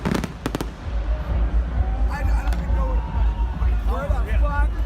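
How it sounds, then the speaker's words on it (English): Fireworks bursting at the Tomorrowland festival, sharp cracks early on, then rolling booms and crackle under an excited crowd and nearby voices talking. "at the time when all of the fireworks were going off"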